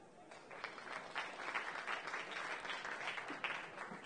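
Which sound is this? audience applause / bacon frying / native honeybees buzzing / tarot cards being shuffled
audience applause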